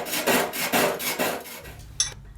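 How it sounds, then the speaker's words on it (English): A fine saw blade cuts through flat bronze sheet in quick rasping back-and-forth strokes, about five close, rhythmic rubs before the sawing stops with a small metallic clink. "using a fine saw blade I cut out the starting shape that I want"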